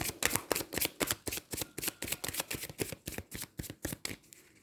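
A deck of Haiku oracle cards is shuffled up close in quick, rhythmic riffles, a steady string of crisp papery snaps with no talking.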